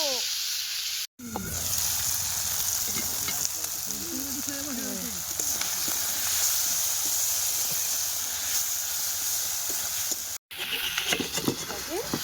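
Meat for kosha mangsho added to a hot pan at an outdoor family picnic, a loud steady sizzle of frying that runs continuously, with people talking over it.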